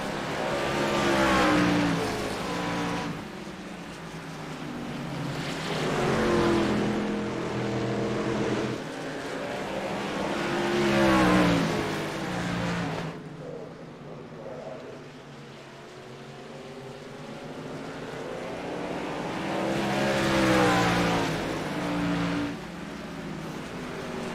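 Race trucks roar around a short oval track at night, engines swelling and fading in repeated passes as the pack goes by, loud and continuous with a crowd setting behind.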